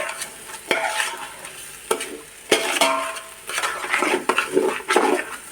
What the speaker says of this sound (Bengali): সবটা দিয়ে আমি নেড়ে চেড়ে নিচ্ছি।